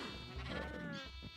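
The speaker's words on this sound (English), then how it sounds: "We've got 2 adult sheep, 2 adult cows." A sheep bleats in the video game Minecraft, one wavering, drawn-out baa heard clearly and up close with no speech over it.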